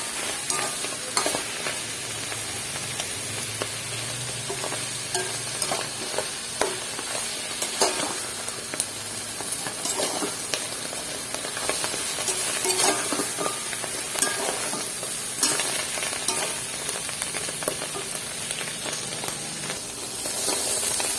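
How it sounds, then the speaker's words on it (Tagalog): Sliced hotdog sautéing in a pan with a little oil for a pesto pasta sauce, giving a continuous loud sizzle and hiss with frequent scraping stirs throughout. "Igigisa rin. Gigisa lang din yun."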